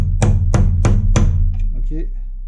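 A part is hammered into place on a 1993 Cadillac 4.6-litre Northstar V8 during a restoration, with four evenly spaced metallic strikes close by and a brief low voice afterward.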